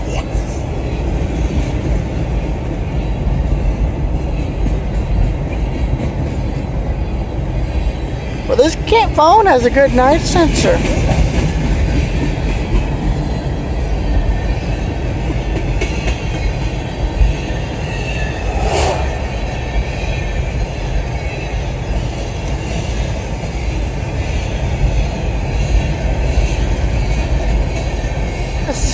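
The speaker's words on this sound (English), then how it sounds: "Yeah, but there's a grain train." A CSX freight grain train rolls past steadily in Statham, Georgia, with a continuous low rumble and brief wheel squeals, while a person talks over it.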